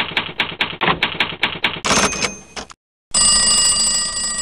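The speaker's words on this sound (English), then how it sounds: "the typewriter." A manual typewriter clatters through a quick run of about eight sharp keystrokes, then a brief mechanical sweep, followed by a short pause and a sustained bright bell-like ringing tone.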